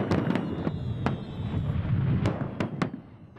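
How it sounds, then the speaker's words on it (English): A fireworks display over a beach sends sharp bursts and pops at irregular intervals, several in quick succession, over a rumbling crowd-like background. "the town hall organises a large fireworks display on the beach"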